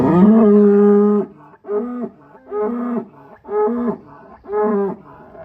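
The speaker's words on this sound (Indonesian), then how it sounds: "Nih sapi ini ceritanya dari mana mas?" A giant cow in a farm pen moos repeatedly, one long loud low call followed by four shorter rhythmic lowing bursts, close and clear with no talk over it.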